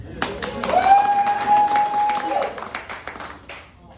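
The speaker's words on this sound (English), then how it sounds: "usually people clap when they say I got kids" Audience members at a stand-up comedy show break into scattered, light clapping that stays fairly quiet beneath a talking voice.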